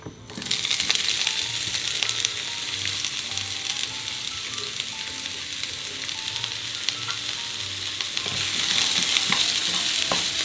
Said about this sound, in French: Dans une poêle assez chaude, vous allez y mettre un petit peu d'huile d'olive. Et vous allez y faire revenir le poivron ainsi que l'oignon.